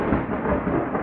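Thunder from a storm rumbles as a steady, dense roar that holds for about a second, moderately loud and with no voices.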